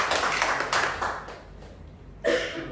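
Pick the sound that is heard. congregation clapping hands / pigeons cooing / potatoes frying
congregation clapping hands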